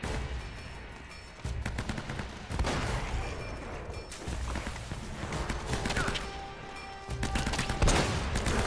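Rapid gunfire from a sniper rifle and other weapons in Uncharted: Drake's Fortune, a dense stretch of loud shots and impacts with a few sharp cracks standing out over continuous game noise.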